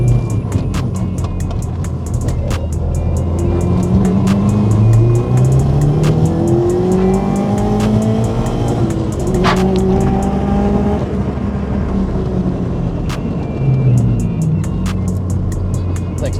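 A Bugeye car engine revs hard while driving, rising and falling through gear changes with a steady loud drone and faint ticking, a stiff three-puck clutch fitted, no talking.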